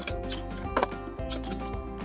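Scissors snip through cardboard in a quiet, close series of short crisp cuts and rustles, with a few brighter clicks scattered through the two seconds.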